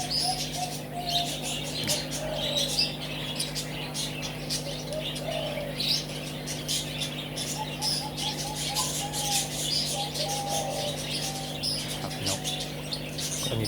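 Spotted doves and zebra doves coo repeatedly at a distance while small birds chirp and tweet over steady outdoor background noise.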